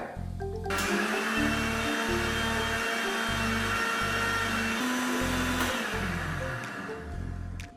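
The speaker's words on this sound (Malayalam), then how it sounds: "എന്നിട്ട് നമ്മൾക്കിത് മിക്സിയിൽ നന്നായിട്ട് അടിച്ചെടുക്കുക" An electric mixer grinder whirs loudly in repeated pulsed bursts, stopping and restarting about eight times, as it blends curd with cold water while making homemade ghee.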